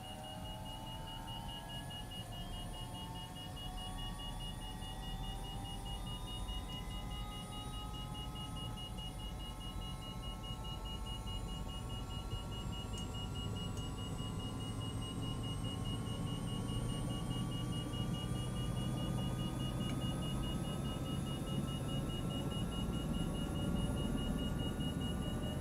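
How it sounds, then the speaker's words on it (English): A smoke alarm in the Microsoft Flight Simulator video game beeps in a fast, steady, high-pitched pattern throughout, heard over a constant drone of glider cockpit and wind noise during a flight across Scotland, with no talking. "How do we turn the smoke alarm off?"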